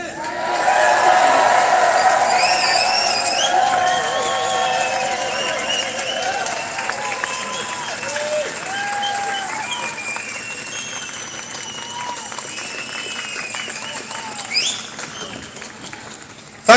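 A large crowd at an outdoor rally outside the Home Office cheers, whistles and applauds loudly and continuously, with shouts and high whoops layered over sustained clapping before it fades near the end.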